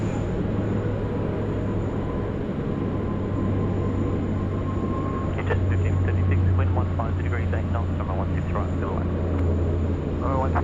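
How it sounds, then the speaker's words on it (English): An Airbus A321 jet taking off at Sydney Airport, a steady broadband engine roar with a strong low hum throughout, while a voice talks over it in the second half. "Airbus 321 going"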